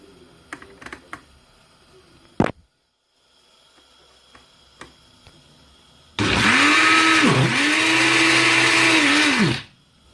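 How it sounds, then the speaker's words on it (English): A blender roars loudly for about three seconds, its motor pitch dipping and rising as it churns tough vegetables with water, after some quiet clicks and knocks. "You can allow as much water as required, just for it to make it easy for you to blend"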